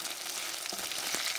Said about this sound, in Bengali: অপর পিঠ ভাজার জন্য ঠিক এভাবে আস্তে আস্তে উল্টিয়ে দেব।